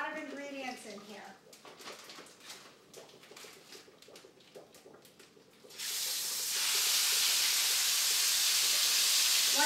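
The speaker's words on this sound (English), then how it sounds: "One thing about Korean cooking is fast, quick searing, which we're going to accomplish here." Korean beef hitting hot oil in a pan: after someone talks, a sudden loud, broad searing hiss bursts in and continues strongly to the end.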